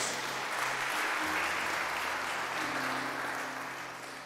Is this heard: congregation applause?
yes